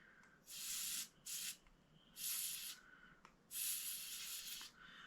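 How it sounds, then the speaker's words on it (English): An aerosol can of contact cleaner sprays onto guitar tuners in four bursts of hissing, the longest near the end, close and fairly loud against a quiet background. "Spray a little on here."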